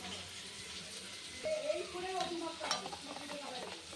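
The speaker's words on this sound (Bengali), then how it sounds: "নাড়িয়ে নিলাম" Turmeric, salt and sugar are stirred into an egg bhapa batter of mustard, poppy seed and chilli paste, giving soft scraping and clinking of a spoon against a bowl, faint and close.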